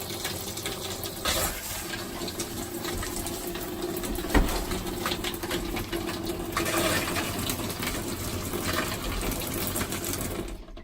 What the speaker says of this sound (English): I'm gonna flush out these lines.